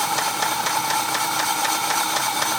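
A 2004 Dodge Durango engine with a bad tapping fault runs with a steady, fast, regular ticking over a constant mechanical hum, close and moderately loud.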